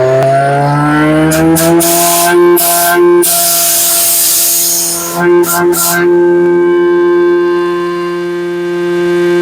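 An electric motor runs a biofloc aerator blower with a loud, steady whine and layered tonal harmonics, broken by a few brief bursts of broadband hiss. No one speaks.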